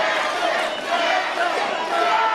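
Wrestling crowd at a live indoor CCW show cheering and chanting loudly, a steady dense roar of many voices over the full stretch, with no clear single voice on top.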